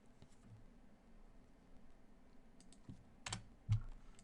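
Fingers tap out a long number on a computer keyboard, a quiet scatter of soft key clicks with a couple of firmer presses near the end, heard close and alone with no talk.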